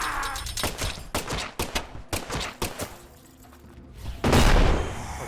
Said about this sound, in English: Shoot the red barrel.